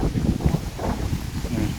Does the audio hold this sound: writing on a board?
no